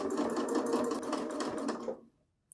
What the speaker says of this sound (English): I'm not actually stitching on that neckband, just the seam allowance of the neckband and the seam allowance of the top.